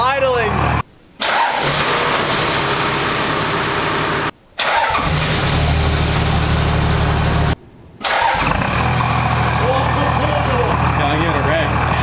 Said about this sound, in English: That's idling.